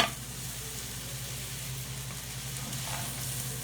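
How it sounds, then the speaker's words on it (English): Onions and rice sizzle and fry steadily in a hot pan for stuffed grape leaves, a continuous close crackling hiss with no voices. "once you get your onions cooking up here, you want to add your rice"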